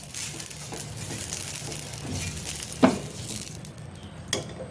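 Oil sizzling softly on a hot tawa as onion rubs it in, a steady low crackle with a few clinks and one sharper scrape partway through.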